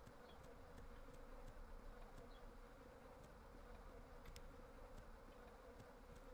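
Bees swarming in a video game give a steady, faint, continuous buzzing drone with occasional small ticks, holding an even level throughout without speech.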